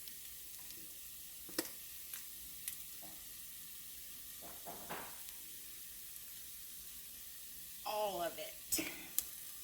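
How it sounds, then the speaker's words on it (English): Tomato paste toasting in a flour roux in a pan over lowered heat, giving a soft, steady sizzle with a few faint clicks of stirring and a brief spoken remark. "We want to toast the paste."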